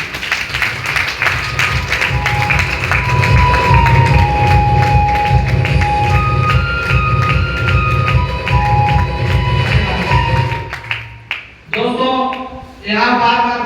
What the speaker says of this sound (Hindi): मैं चाहूंगा कि शानदार ताली